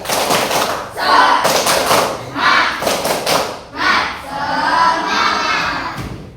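A group of children doing rhythmic 'tepuk semangat' patterned clapping in a classroom, loud bursts of synchronized claps and thumps in a repeating beat, mixed with chanting and shouting voices.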